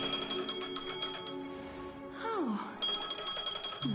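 Phone ringing in the video game Honkai: Star Rail, a repeated electronic ringtone with steady tonal pulses interrupted by a short descending chime, while a person briefly exclaims once.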